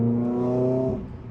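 Renault Clio 200 engine revving hard while driving, a strong rising harmonic whine that holds high and then drops off abruptly as the throttle lifts, close and loud with no talking.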